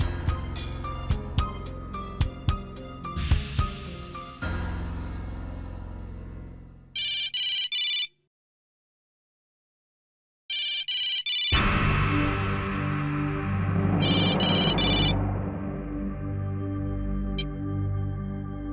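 A telephone rings in a hospital drama scene, its electronic ring bursting out in repeated trills under background music. A clear silent gap splits the ringing before it resumes over the score.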